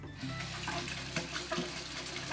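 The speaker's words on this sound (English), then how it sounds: "I'm just gonna get a little bit more water" A kitchen tap runs with a steady, continuous gush of water into a sink while veggie burgers are being made, close and moderately loud with no talk over it.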